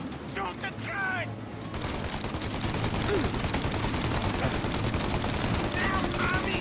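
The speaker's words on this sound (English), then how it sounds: "Shit! Gatling gun." Sustained Gatling gun fire in a Mafia: Definitive Edition shootout, a dense, continuous rattle of rapid shots that runs loud and unbroken for several seconds, with a brief shouted voice near the start.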